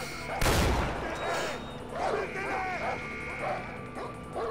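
Dogs bark, starting with one loud sharp bark followed by a series of quicker yips and barks at moderate distance, against steady background noise.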